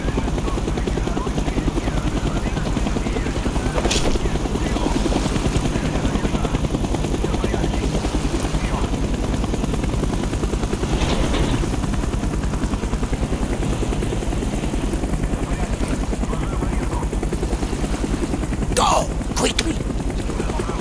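Continuous helicopter rotor and engine drone in Call of Duty: Black Ops, a steady heavy thrum holding for about twenty seconds, with brief sharp bursts near the end and game sounds mixed in.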